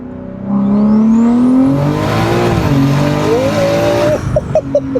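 A 900 hp BMW G80 M3 accelerates hard in second gear, its engine note climbing steadily and loudly for several seconds, then cutting sharply with a few quick pops and crackles afterward.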